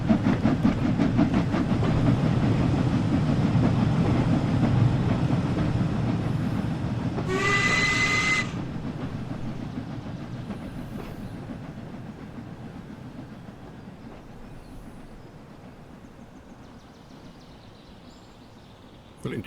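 Steam train running on the West Somerset Railway in Train Sim World 4, with a continuous rumbling chuff and rail noise throughout, a brief whistle blast around the middle, and the sound slowly fading as the train rounds a corner.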